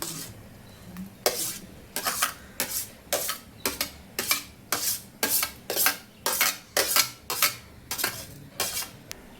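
A spoon stirs onion and chili in a cooking pan, a quick run of repeated metallic scrapes and clinks at a steady rhythm, close, over a faint background hiss.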